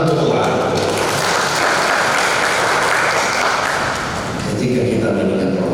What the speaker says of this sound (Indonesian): Kita tepuk tangan untuk Tuhan.